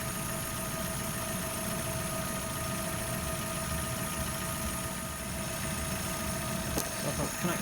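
A Vauxhall Zafira engine, on a car that had a dead battery and would not start, runs at a steady, even idle with a low rumble and slight vibration, close and constant, with a faint clank near the end.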